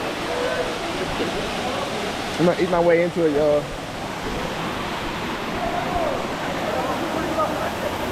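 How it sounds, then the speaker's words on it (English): A waterfall rushes in a steady, loud wash of broadband noise that never lets up, while a person speaks briefly over it partway through. "We made it to the waterfall."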